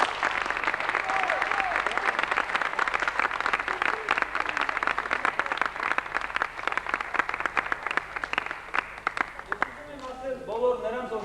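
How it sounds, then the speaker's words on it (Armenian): Sustained applause fills a theatre hall after a staging of Goldoni's The Servant of Two Masters, a large audience clapping steadily before it thins out and a voice starts speaking near the end. "Սրա համար ևս պիտի ծափահարենք։"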